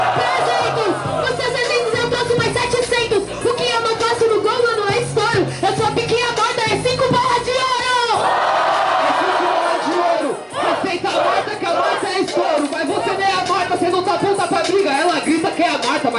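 A crowd at a street rap battle semifinal cheers and shouts loudly and continuously, a dense roar of voices under and around a rapper speaking.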